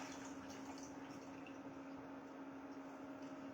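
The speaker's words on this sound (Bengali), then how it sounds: "সেই দুধটা আমি ঢেলে নিলাম" About 600–650 ml of pre-boiled milk pours steadily from a vessel into a pot for rice and carrot payesh, a faint, even liquid stream over a low hum with no talking.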